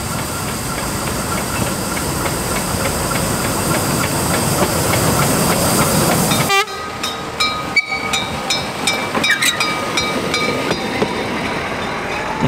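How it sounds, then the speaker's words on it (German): Narrow-gauge steam trains on the Döllnitzbahn running side by side, a loud roaring steam hiss for several seconds that cuts off abruptly, followed by quieter clanking and chuffing of the passing trains. "Ganz unterschiedliche Zugkombinationen fahren hier die ziemlich lange Strecke nebeneinander her."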